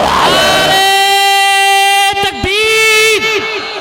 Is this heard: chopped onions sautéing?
no